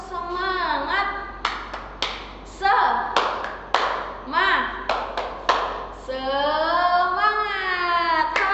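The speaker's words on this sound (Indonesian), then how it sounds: "kita tepuk semangat dulu ya, biar semangat semuanya" Classroom spirit-clapping routine: children clap together in a patterned rhythm of sharp bursts, alternating with an adult and kids chanting and shouting in unison between the claps.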